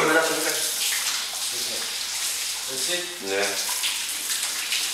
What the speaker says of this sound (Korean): 대원들은 고된 훈련을 마치고 난 후 함께 샤워를 하면서 서로를 격려한다.